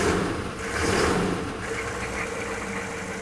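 A 1994 2500 pickup's 6.5 turbo diesel idles nearby with a low, steady rumble and a slight rough knock, its drone continuing without any speech.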